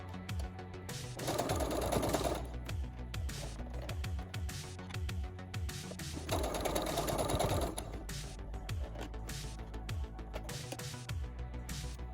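A sewing machine stitching tulle and fabric for a handmade doll project, running in bursts of rapid mechanical whirring with short pauses between, close and loud with no talking.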